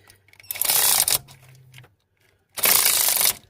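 A cordless ratchet works on a bolt on a Pontiac G6, giving two loud, close bursts of whirring, about a second each, separated by a quiet gap.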